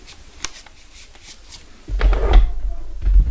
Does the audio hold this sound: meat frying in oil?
no